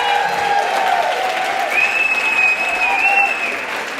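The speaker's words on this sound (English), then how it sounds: "Get a big round of applause for today" A crowd applauds steadily at a Science of Black Hair event, a dense, even wash of clapping held for several seconds, with a sustained tonal line running through it.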